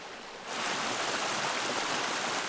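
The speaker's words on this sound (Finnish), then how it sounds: "Tässä oli tämmönen pieni sympaattinen puro" A small stream beside a hiking trail in Lapland rushes in a steady, fairly close broadband burble that swells up after a brief quieter moment at the start, with no voices.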